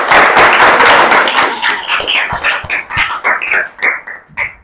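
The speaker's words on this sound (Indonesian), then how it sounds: "Tepuk tangan buat kalian semua" A group of students claps in a classroom, starting as a loud burst of overlapping hand claps that thins into scattered, separate claps before stopping.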